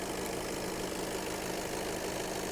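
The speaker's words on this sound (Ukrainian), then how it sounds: "Двигун працює стабільно, немає ніяких підтікань" A 2019 Skoda Octavia A7 engine idling with a steady, even rumble and a constant hum, running smoothly, close by, with no talking.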